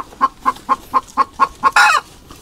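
A nearby chicken clucks eight times in an even, quick rhythm, ending in a louder, rough squawk; close and clear with no talking.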